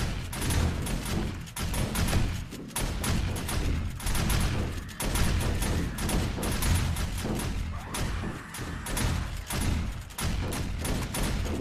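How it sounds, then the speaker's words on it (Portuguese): Guns firing nonstop at a zombie horde attacking a base in the video game 7 Days to Die: a dense, loud barrage of overlapping shots and booms that runs without pause, with no talking. "E o bom é que as armas ali estão atirando, né?"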